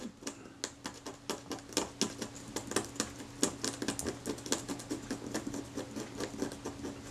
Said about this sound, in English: Hopefully it'll scrape off.